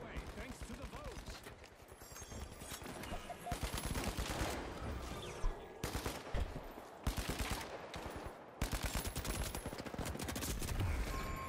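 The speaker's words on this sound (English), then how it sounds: "Oh, I'm getting shot in the back." Rapid video game gunfire rattles in dense automatic bursts as a player takes hits, loud and close with brief gaps between volleys, while a voice talks underneath.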